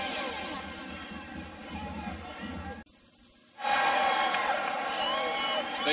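Stadium crowd roaring at an Oregon State vs Oregon football game, a broad sustained wash of cheering that drops out abruptly for under a second before returning louder and fuller.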